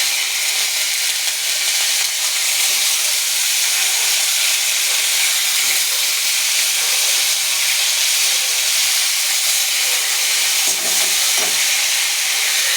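Steady, loud sizzling hiss of tomato dropped into hot oil already seasoned with panch phoron, a bay leaf and a dried red chilli, continuous and close throughout with no talking.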